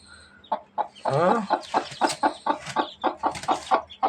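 A hen with newly hatched chicks clucks close by in a steady, repeated rhythm of short clucks, with one longer, drawn-out call near the start.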